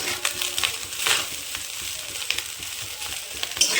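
Cooked basmati rice is stirred into fried egg and onion in a pan, making a soft, crackly sizzle with irregular scrapes and small taps of the spatula, close and steady, with no talk.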